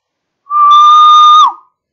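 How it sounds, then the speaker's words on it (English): A single loud, clear whistle blast sounds close by for about a second, tested against a PIC16F877A sound detection circuit in an otherwise silent room. "So now let me blow a whistle."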